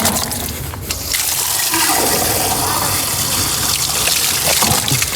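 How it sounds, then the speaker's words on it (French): Water gushes steadily from an outdoor tap in a small park, a loud, close, continuous splashing rush that lasts throughout. "on allume le petit robinet"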